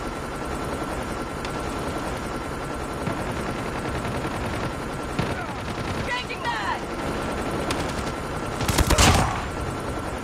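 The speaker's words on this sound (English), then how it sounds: "Stealth chopper inbound." Stealth chopper in Call of Duty Mobile, a steady rotor drone running throughout with scattered bursts of gunfire and a loud, sharp burst of shooting near the end, while in-game voices call out.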